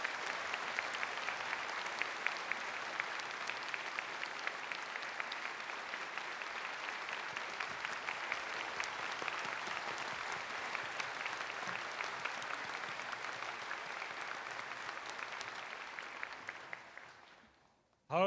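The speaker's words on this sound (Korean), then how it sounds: "감사의 박수를 천지인 참부모님께 올리겠습니다" Sustained applause from a large audience at a religious dedication ceremony, steady dense clapping for about seventeen seconds before it fades out.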